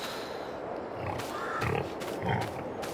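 Pigs in a Farming Simulator 22 pen grunt in three short, low bursts over a steady ambient background, moderately close and with no talking.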